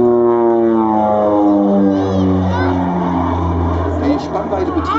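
A loud Rockwell OV-10 Bronco propeller aircraft drones overhead at an airshow, its engine pitch shifting as it passes and manoeuvres, steady and close throughout.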